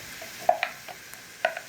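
Onion frying in oil in a cooking pot for an Egyptian moussaka, heard as a soft, quiet sizzle with a few sharp stirring clicks and taps.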